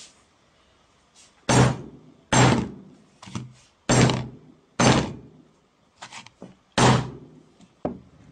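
A hammer strikes a Sony Xperia Z phone in a crash test: a series of about six heavy, dull thuds at uneven intervals, with lighter knocks and handling noise between them.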